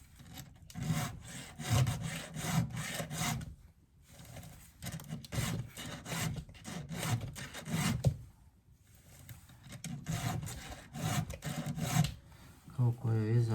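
Steady back-and-forth hand-sawing of wood, rhythmic rasping strokes repeated over and over, close by, with a short pause midway.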